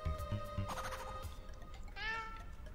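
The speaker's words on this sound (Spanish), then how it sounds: "Es que he escuchado miau" Cat meows from an Adventure Time video game, a short meow early then a clearer, higher rising meow near the end, over steady game background sound.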